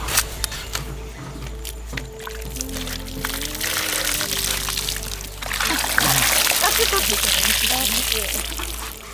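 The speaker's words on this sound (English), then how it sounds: "Just pour the water like that." Water poured from a bucket comes out in a rising, splashing rush toward the end, preceded by light clicks and a low hum, with people talking nearby.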